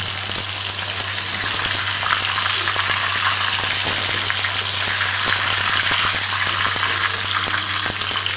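Pieces of chicken fry in a pan with a loud, continuous sizzle and crackle, bursts of spitting oil popping throughout, close by and without talk.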